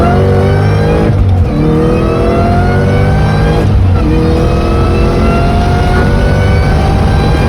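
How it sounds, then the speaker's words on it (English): A 2003 Ford SVT Cobra's V8 with an M112 supercharger revs loudly up close, its pitch climbing in repeated sweeps that drop back briefly before rising again. "this is the M112 supercharger."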